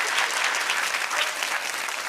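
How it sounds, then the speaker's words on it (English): An audience at a real estate profession event claps to welcome the immediate past president of an association to the stage, with dense, steady applause filling the room throughout at an even, fairly loud level. "Can we all give a big round of applause"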